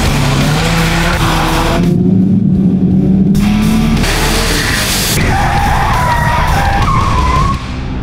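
At the Gallo Drifting School, a car drifts with its tyres skidding. A loud, close, continuous squeal rides over the roaring engine, which changes pitch as the car slides and then tails off slightly at the end.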